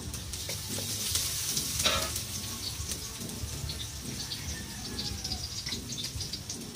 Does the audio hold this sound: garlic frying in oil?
yes